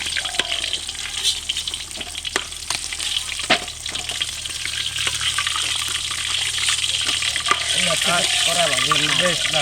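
Katla fish pieces fry in hot oil with a continuous bright sizzle, punctuated by clinks and stirring knocks, while a voice talks intermittently nearby.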